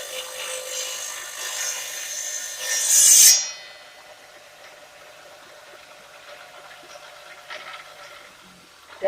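A tile pushed against a wet saw blade gives a harsh rasping grind that swells for about three seconds, then drops to a quieter steady blade whir with no talk.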